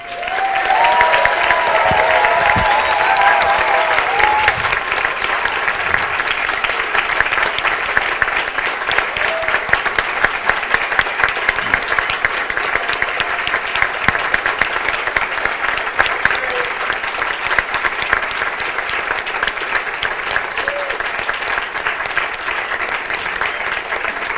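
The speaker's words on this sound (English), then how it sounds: "I want you to give a round of applause to Kerry Cassidy." Long, loud crowd applause with some cheering for Kerry Cassidy at the Awake & Aware 2011 live event, dense and continuous, fading slightly toward the end while a voice briefly speaks over it.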